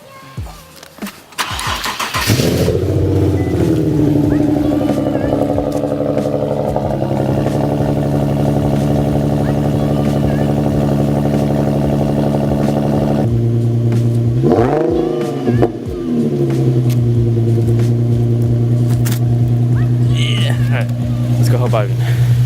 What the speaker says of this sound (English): Listen to this cold start.